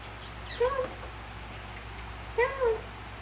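Two short cat meows, about two seconds apart, sound from nearby over a steady low hum and room noise during an indoor chat.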